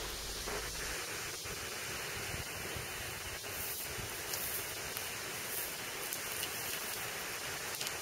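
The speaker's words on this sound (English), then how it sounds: "So, this is the monsoon on its way into us." Monsoon rain sweeps in over a high rocky lookout above the sea on Ko Phra Thong, a soft, even hiss that stays fairly faint and unbroken, with no talk.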